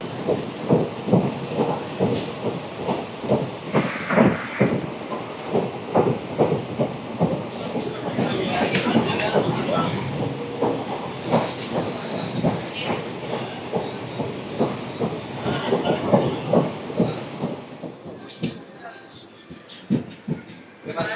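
The 16850 Rameshwaram–Tiruchirappalli Express crosses the Pamban bridge with a steady, rhythmic clickety-clack of wheels over rail joints, loud and close, under a broad rumble of rolling carriages.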